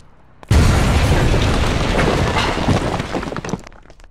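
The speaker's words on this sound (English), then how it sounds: "we destroy the WrestleMania arena." A massive explosion tears through the WrestleMania arena in a wrestling video game, a sudden loud boom that holds as a dense rumbling roar of debris for several seconds before tailing off.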